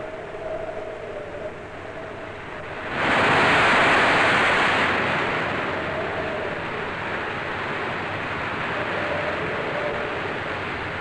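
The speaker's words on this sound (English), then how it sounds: "It was really getting rough and windy now" Wind roars over a rough Atlantic sea around an ocean liner as a big wave surges loudly, then subsides into a constant churning wash of water.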